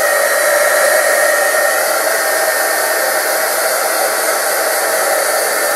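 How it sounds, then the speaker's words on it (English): A hair dryer blowing on wet craft work for a pop-up home card, a steady, loud, even whoosh that runs unbroken from start to end. "I'm going to dry that, because you may be able to see that it is a little bit wet"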